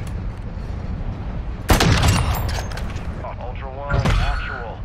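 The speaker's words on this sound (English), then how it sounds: "They're shooting at me." Gunfire in the Call of Duty DMZ video game, a sudden burst of shots around the two-second mark and another near four seconds, loud and sharp over background game noise, with voices talking in between.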